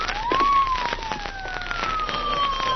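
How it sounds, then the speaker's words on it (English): A police siren wails with a slowly sliding pitch, somewhat distant and steady, over a faint patter of background noise. "Hey, listen. Police car."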